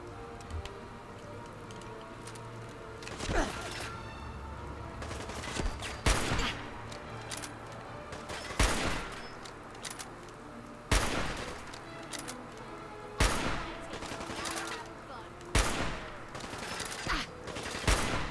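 Enemy gunfire in the video game Fallout 4: sharp, loud shots crack out at intervals of a couple of seconds over a continuous hiss of background noise.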